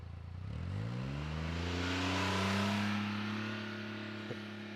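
A car in sport mode accelerates away, its engine note rising and climbing in pitch as it revs up, loud and sustained, then easing slightly as it pulls off.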